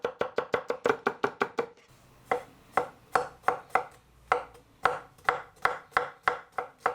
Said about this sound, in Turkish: Biberleri de yine küçük küçük doğruyorum.